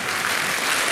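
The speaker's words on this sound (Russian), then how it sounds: "Аплодисменты, аплодисменты, друзья!" A burst of applause from the audience at a children's pop concert, steady, dense clapping throughout a single second.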